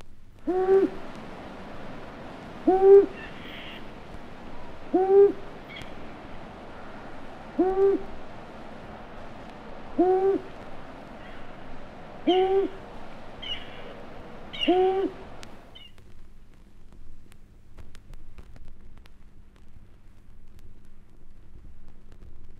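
A deep, low long-eared owl moan repeats at a slow, steady pace about every two to three seconds, fairly close, then stops, leaving quiet background.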